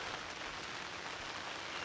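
Monsoon rain falls on a village in Nayangram, making a steady, even hiss of drops on surfaces, moderately soft and unbroken, with no talk.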